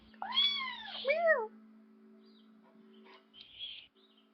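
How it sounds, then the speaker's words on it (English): A cat meows twice in quick succession, close and fairly loud, each call rising then falling, followed by quieter faint sounds against a steady background hum. "But look at, hear this cat, listen to this cat."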